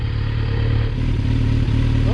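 A Kawasaki Z900 with an Akrapovic exhaust revs loudly and close, its deep, rough engine note holding steady as the pitch bends slightly, with no voices over it.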